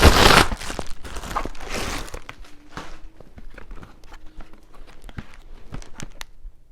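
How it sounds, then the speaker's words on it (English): Packaging for a mini LED cinema light box is cut and torn open close by, with a loud crinkling burst at first, then softer rustling and scattered crackles as the wrapping gives way. "So I'm just going to cut this open."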